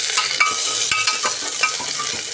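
Green chillies fry in hot oil with onion browned to a pinkish-golden colour, giving a steady bright sizzle broken by a few stirring scrapes and clicks, close and loud with no talking.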